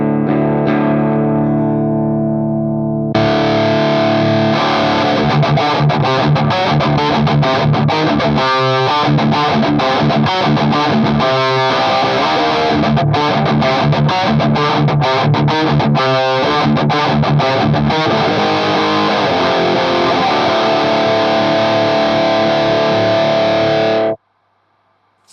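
Electric guitar through a distortion pedal set for an old-school thrash metal tone, compared with a Boss Metal Zone and Revv G3: a sustained chord, then fast chugging palm-muted riffing, loud and close, stopping abruptly.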